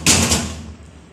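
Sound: door being closed

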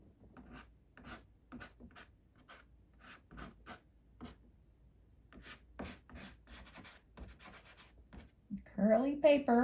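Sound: blending paint or pastel on paper while painting

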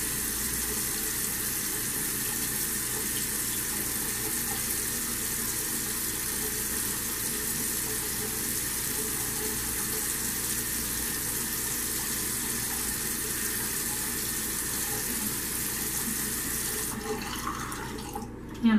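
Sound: water running while rinsing face at sink

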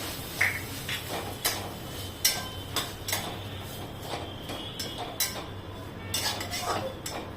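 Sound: coconut being sautéed and stirred in a pan

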